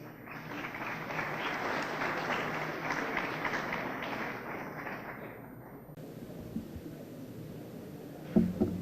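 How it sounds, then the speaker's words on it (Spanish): Warm applause from a conference audience welcoming a speaker on vehicle insurance in Ecuador, steady clapping in a hall that fades out, followed by quiet room noise and a couple of faint knocks. "Lo recibimos con un caluroso aplauso."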